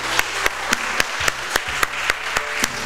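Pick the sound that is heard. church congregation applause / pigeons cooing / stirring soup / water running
church congregation applause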